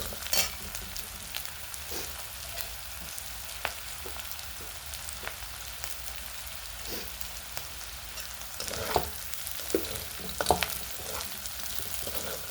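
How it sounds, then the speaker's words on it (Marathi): Chillies sizzling and frying in a pan for a yogurt chilli dish, a continuous crackling hiss broken by sharp scraping taps of a spoon stirring every second or two, close by with no talk. "पूर्ण आधी तळेपर्यंत हलवून घेऊया."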